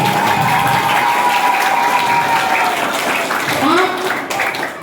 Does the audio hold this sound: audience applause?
yes